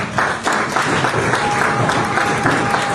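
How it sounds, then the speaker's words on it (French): A crowd applauds in steady, dense clapping throughout, loud and close, with a few voices faintly under it. "Est-ce qu'on peut les applaudir, s'il vous plaît?"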